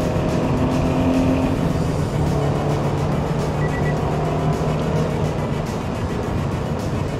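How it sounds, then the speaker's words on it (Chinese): A Toyota GT86 with a BMC high-flow air filter revs hard near 7,000 rpm in second gear, its loud, close engine note droning continuously with rising tones and no talk. "你可以听到引擎上面传来的声音"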